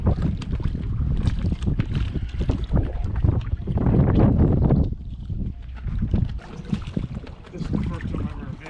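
A kayak is launched onto water outdoors, with loud rushing splashes and wind buffeting the microphone throughout.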